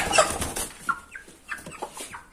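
Giant Brahma chickens and a rooster clucking inside a wire-fenced pen, with a string of short, close clucks after a brief noisy burst at the start.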